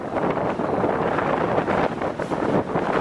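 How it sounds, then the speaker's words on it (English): Strong wind buffets the microphone on a hilltop on the Isle of Man coast path between Port Erin and Peel, a continuous rough roar gusting up and down with no voices. "Oh, killer the boat, it's windy."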